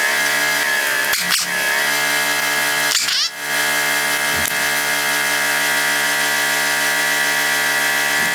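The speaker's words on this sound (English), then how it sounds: "Now the rest of them we can get with the old fully automatic ratchet" A power ratchet whirs steadily and loudly while backing out bolts on a Mack R686ST truck being restored. The tool runs almost continuously, with brief hitches and clanks where it pauses.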